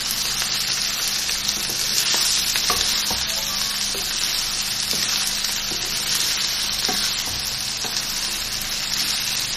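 Minced meat keema frying in a pan with tomatoes, a steady, loud broadband sizzle running throughout, with scattered scrapes and clicks of a spoon stirring the mixture close by.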